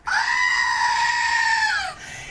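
A Billy the Goat toy letting out a loud, sustained goat scream, one long strained bleat that cuts off abruptly near the end, heard alone up close.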